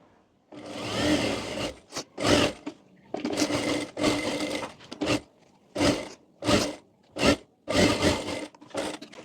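A sewing machine stitches a deep-neck back-hook blouse, size 38/40, running in several bursts of whirring stitching broken by short pauses, fairly close and loud with no talking.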